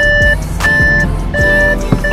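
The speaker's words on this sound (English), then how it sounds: "let's just stop that beeping" Warning chime inside an Audi S8 cabin, a pure repeating tone that sounds in evenly spaced pulses, loud and close over faint background clunks and rustling.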